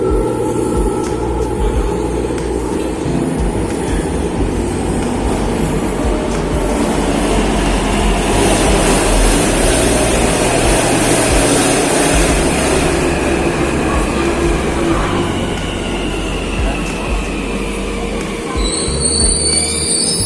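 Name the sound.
metro train arriving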